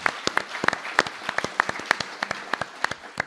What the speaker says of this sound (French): Je vous demande de les applaudir parce qu'ils ont beaucoup travaillé pour cette session.